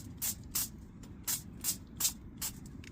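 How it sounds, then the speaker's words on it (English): Short spritzes from a cooking oil spray bottle in a hot tent camping setup, about seven quick hissing bursts in an uneven rhythm, close but fairly quiet over a low background rumble. "I just want to spray a tiniest bit of oil"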